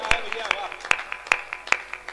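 An audience at a Hindi kavi sammelan poetry recital claps in sharp, evenly spaced bursts, about five strong claps with softer ones between, close and crisp.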